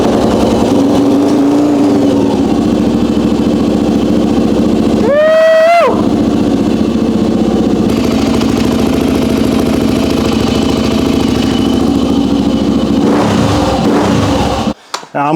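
A Honda XR400 dirt bike engine runs steadily throughout, its throttle blipped near the middle, with a voice talking over it.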